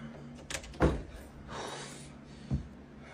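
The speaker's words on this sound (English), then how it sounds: "Out of nowhere, a door closes by itself" A door swings shut on its own with a soft, muffled thud, followed by a faint whoosh and a lighter knock. The sounds are quiet and fairly close.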